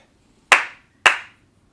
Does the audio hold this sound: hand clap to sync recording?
yes